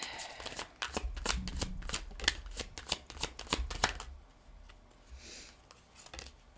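A deck of romance angel oracle cards is shuffled by hand in a quick run of crisp riffling slaps, then the shuffling stops and only faint handling sounds remain.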